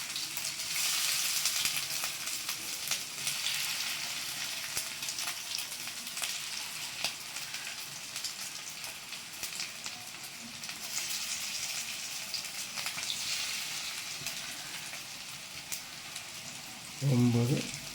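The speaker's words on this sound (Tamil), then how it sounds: "இது பாருங்கள் இப்போ தான் வந்து அப்படியே நல்லா ஃப்ரை ஆகுறது ஸ்டார்ட் ஆகுது." Fish pieces fry in hot oil, giving a steady, fairly quiet sizzle and crackle that runs throughout with no talking.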